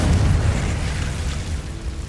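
A Confringo spell explosion in Hogwarts Legacy, a deep rumbling boom with a loud opening burst that rolls on and slowly fades, heard alone with no talking.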